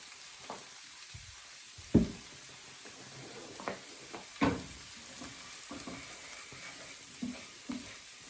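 Stirring a samosa filling of peas, potatoes and coriander with spices in a pan, producing soft scraping and gentle sizzling with a few sharper knocks of the utensil against the pan, close and fairly quiet, with no talking.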